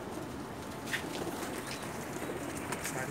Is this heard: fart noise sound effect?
no